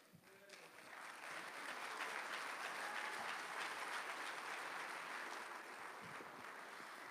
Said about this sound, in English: Let's go ahead and give Jesus another hand clap of praise.